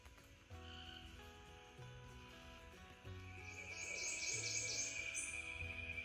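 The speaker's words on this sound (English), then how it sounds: "Sounds like I'll have plenty of frogs in the background cheering me on." Frogs croak in a swamp along a trail in Tickfaw State Park, Louisiana, a steady chorus of repeated low pulses with higher chirping calls layered on top, growing fuller and louder toward the end.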